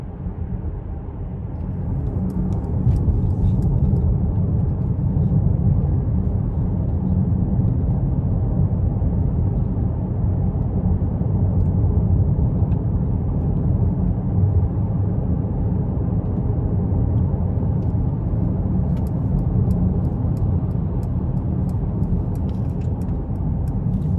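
A 2022 Mercedes-Benz S500 4Matic drives steadily, its interior filled with a continuous low rumble of road and engine noise at an even level, with no talking.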